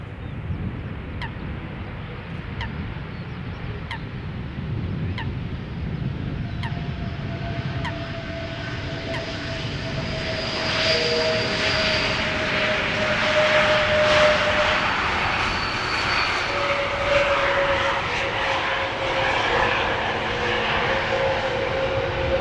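Jet aircraft at Schiphol Airport, a Boeing 747 and an Airbus A321neo, with a steady broad engine roar that swells louder midway through and sustains with whining engine tones, alone without talk.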